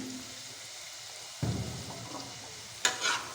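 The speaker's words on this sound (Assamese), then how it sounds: "মই এতিয়া পিঁয়াজখিনি এনেকৈ অলপ ব্ৰাউন ৰঙচুৱা হোৱাকৈ মই এইখিনি ভাজি লওঁ" Onions fry for a goat curry, a low steady sizzle in a pan, broken by two louder bursts as the onions are stirred; no speech.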